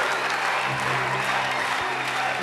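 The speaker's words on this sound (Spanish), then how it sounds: "Es una ovación del estadio" A stadium crowd gives a standing ovation, a continuous, dense roar of applause and cheering that fills the space evenly, with faint voices mixed into the wash.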